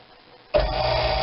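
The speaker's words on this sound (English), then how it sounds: "we're going to hit the vacuum" A vacuum sealer pulling air from a Mylar bag of bacon switches on abruptly after a quiet moment, then runs as a steady loud motor hum with a constant whine.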